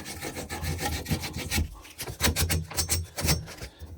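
Sheet of 150-grit sandpaper rubbed back and forth during a bathtub water spout replacement, giving a close, steady scratchy rasp with quick irregular strokes throughout.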